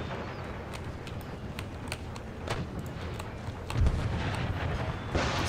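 Cannon artillery volleys on a battlefield in Empire Total War, heard as repeated dull booms and crackling blasts over a continuous rumbling din, with one heavier thump near the end.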